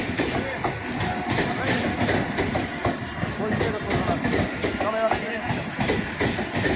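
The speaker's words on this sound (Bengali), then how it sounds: "স্টেশনে এত ট্রেন যায় ট্রেনের এত আওয়াজ" Trains run through a railway station, giving a steady, dense rumble with rail clatter across the whole stretch, moderately loud, with voices and station noise mixed in.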